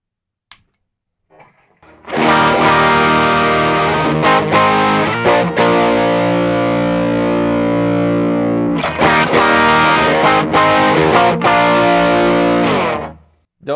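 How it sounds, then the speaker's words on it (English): A Les Paul with humbuckers played through a Sencha Drive Tube Screamer-style overdrive set to TS-808 noon settings rings out in loud, sustained distorted chords, the first held for several seconds and then a second strummed chord, with no talking. "I've got my Les Paul with some humbuckers in it, so you can hear what that sounds like"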